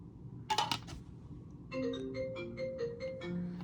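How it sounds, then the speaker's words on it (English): Phone ringing with an incoming call, a repeating electronic ringtone melody of short tonal pulses, clear and fairly close, after a brief rustle of handling noise at the start. "just got a phone call there from my dad, of all people"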